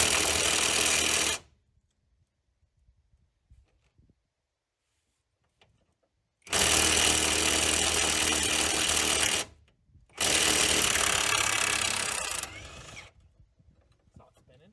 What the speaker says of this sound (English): now I'm gonna use this to get the subframe nuts out